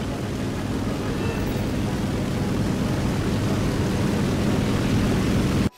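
A fighter plane in the War Thunder game, carrying unguided rockets: a steady, loud engine drone with a broad hiss holds evenly throughout and cuts off abruptly at the end.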